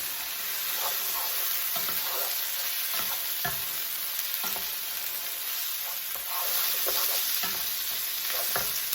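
Paella sizzles and fries in a pan, a loud continuous hiss with intermittent stirring scrapes and clicks of a utensil throughout, heard close and without talking.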